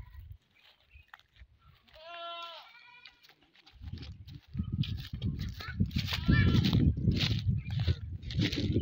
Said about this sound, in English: We have goats